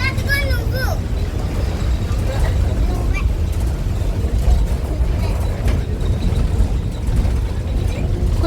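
Steady low engine rumble and road noise from inside a moving bus on a village route toward Mandapeta, continuous throughout, with a few faint chirps and brief child-like voices early on.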